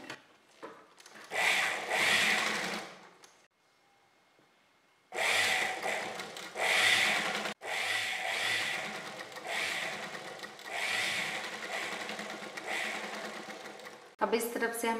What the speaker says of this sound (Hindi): नॉर्मल सी सिलाई लगानी है हमें।